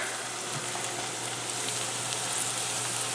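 Onions softening in olive oil in a pan give off a steady, even sizzle and crackle that lasts the whole stretch at moderate loudness, with no voices over it.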